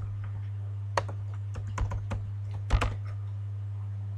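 Keystrokes on a computer keyboard while entering JavaScript code, a scattered run of close, crisp clicks with short bursts around a steady low electrical hum, no talking.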